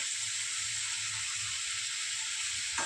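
Eggplant pieces sizzle in a frying pan for a Bengali fish curry, a constant close hiss of frying oil with faint low bubbling underneath and a brief clink near the end.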